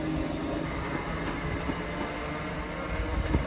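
A Class 319 electric multiple unit on a stopping service to Liverpool Lime Street rolls through Wigan North Western station, giving a steady, broadband rumble and hiss from close by with no talking.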